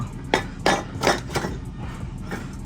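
Hammer strikes on a wooden block used to knock loose a seized exhaust manifold at the turbo of a Mitsubishi Evo X, four or five sharp, bright knocks spaced under half a second apart, close and loud over low shop hum.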